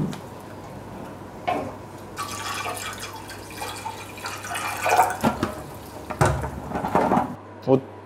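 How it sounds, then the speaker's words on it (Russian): Water pours into an aluminium brewing pot while beer is brewed from malt, a steady splashing and trickling with brief louder gushes and drips near the end, with voices faintly in the background. "Налил воды, почти,"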